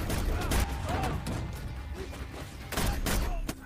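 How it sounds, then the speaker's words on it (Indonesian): Gunfire from the 2014 John Wick film, a rapid burst of shots and cracks mixed with loud action-scene effects, with short sharp bursts near the start and again toward the end. "John kemudian mengelilingi mobil Vigo sambil menembaki anak buahnya."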